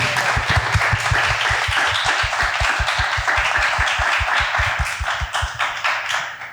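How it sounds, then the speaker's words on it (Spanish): An audience applauds for Lilith with steady, rhythmic clapping in even beats of several per second over broad crowd noise. The clapping stays loud throughout and eases slightly at the end. "gracias y un aplauso por favor para Lilith"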